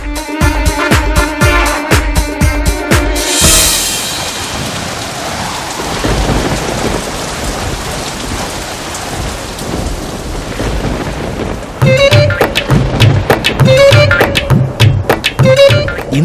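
Heavy rain pours down with loud cracks and rolls of thunder, a dense close downpour swelling into crashing thunder bursts near the start and again toward the end.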